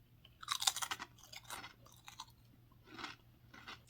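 Close, crisp crunching of a light Polish potato snack being chewed, several bursts of bites separated by short pauses, with no talking.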